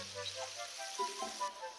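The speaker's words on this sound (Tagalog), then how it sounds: "Igisa nyo muna yung ampalaya dito sa sibuyas na may kamatis" Bitter gourd sautéing in a pan with onion and tomato, a quiet crackling sizzle broken by a few light stirring knocks, with faint speech in the background.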